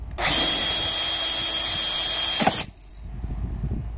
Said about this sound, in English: we're just going to drill a 3 8 hole